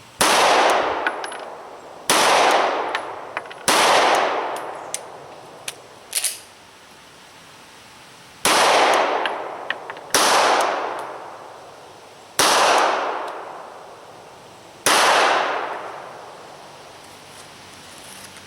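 Glock 26 pistol fired in slow, evenly spaced shots, seven sharp loud reports with ringing decays and one longer gap between them, heard outdoors at close range.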